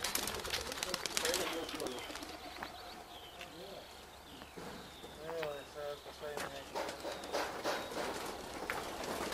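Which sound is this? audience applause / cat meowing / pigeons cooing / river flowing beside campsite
pigeons cooing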